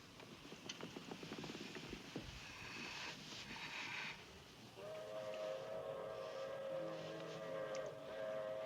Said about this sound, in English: Hear that? That train? That's the 904 to Barstow.